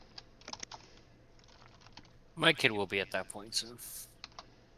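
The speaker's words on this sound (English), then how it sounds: "Typing here, bro." Rapid clicking of computer keyboard keys, quiet and steady, heard beneath someone talking over it.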